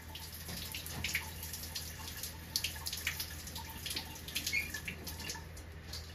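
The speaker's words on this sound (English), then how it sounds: "I'm gonna fill it up with water there." Water running from a tap into a glass bottle that holds copper, a soft steady trickle with small splashing peaks, close but quiet, and no voices.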